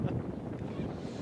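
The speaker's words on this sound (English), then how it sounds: "Boy, it's windy up here, guys." Wind blowing across an outdoor high school football game broadcast position, a faint low rumble of gusts buffeting the microphone, continuous and soft with no talk.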